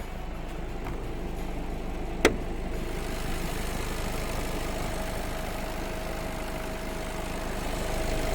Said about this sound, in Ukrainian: Автомобіль працює рівненько.